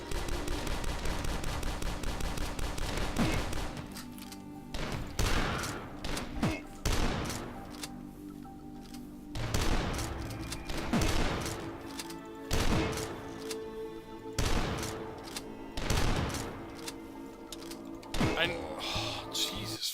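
Pistol gunfire in the retro shooter DUSK, sharp repeated shots in irregular bursts with brief pauses between, alongside game noise and a talking voice.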